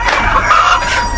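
A white-lemon frizzle (curly-feathered) rooster crows nearby, one short loud call with a harsh, strained tone.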